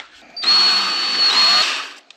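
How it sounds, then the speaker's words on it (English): A power drill with a step bit whirs at high speed for just over a second, cutting through material on a Mazda Miata rally car, starting abruptly and stopping cleanly, close by. "So let's drill a hole in some stuff."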